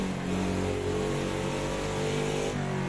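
A modern NASCAR race car held in fourth gear on the Nordschleife, its engine droning loud and steady with a low, rich, continuous roar for the whole stretch, with no voices over it.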